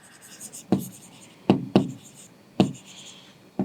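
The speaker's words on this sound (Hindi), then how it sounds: "इसके आगे का आंसर मैं यहाँ लिख रही हूँ." A teacher writes an answer in a lesson, producing a few sharp, close strokes, about four distinct taps with quiet scratching between them and no talk.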